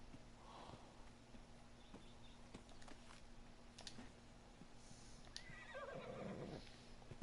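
A horse in the video game Ark whinnies in a wavering neigh near the end, over a faint low game hum with scattered soft clicks and thumps beforehand.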